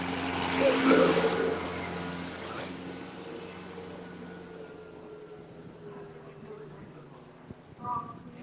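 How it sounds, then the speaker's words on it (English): A tractor rumbles past at a drag racing event, a low droning engine that swells early and then fades as it moves away, with people talking over it. "A little drive-by by the tractor."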